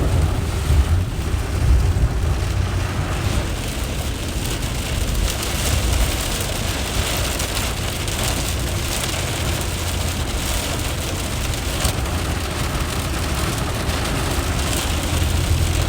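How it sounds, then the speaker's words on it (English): Heavy storm rain pounds a moving car on an afternoon drive through the Metro Detroit area in Michigan, a constant dense roar of drops on the vehicle mixed with rushing road and wind noise, steady and loud throughout. "As the rain continues to intensify as we continue working our way deeper and deeper into the storm."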